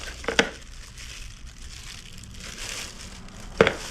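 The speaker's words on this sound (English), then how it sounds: "you don't want to watch me take stuff out of plastic bags" Plastic bags holding computer scrap parts such as RAM rustle and crinkle as items are taken out, with two sharp crinkling bursts near the start and end over a soft, steady background.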